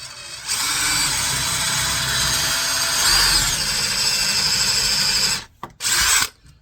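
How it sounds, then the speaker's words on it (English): A power drill drives a 1/4 inch Forstner bit into wood while building a cutting board and knife rack, grinding steadily and loudly for about five seconds before stopping, then briefly spinning again. "get our 1/4 inch Forstner in here"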